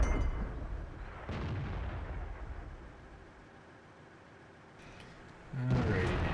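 Tank cannon fire in the World of Tanks game, a Centurion AX or M48A1 battle: heavy booming blasts with rumbling decay, one near the start and a loud close shot at the end, with quieter battlefield ambience between.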